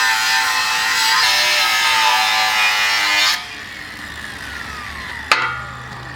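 A power saw cuts through steel workbench tops in a loud, continuous high-pitched whine that stops after about three seconds, followed by quieter background noise and a single sharp metallic clank.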